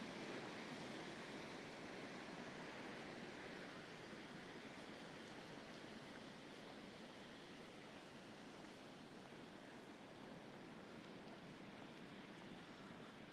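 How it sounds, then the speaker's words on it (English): A continuous wash of sea waves and surf, a broad steady hiss with gentle swells and some wind, no voices. "Be soothed by the sound of the sea."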